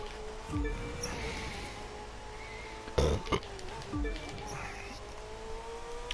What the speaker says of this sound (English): I'm still burping.